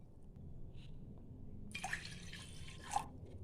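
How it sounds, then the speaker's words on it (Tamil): Two cups of water are poured into a pot on a stove for tandoori tea, a quiet splashing pour lasting about a second against soft room hiss. "அடுப்பில் ஒரு பாத்திரம் வச்சு அதில் 2 கப் தண்ணி சேர்த்துக்கலாம்."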